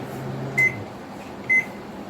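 A Samsung MC28A5045VK microwave oven gives two short, high electronic beeps about a second apart, clear and close, over a faint steady hum.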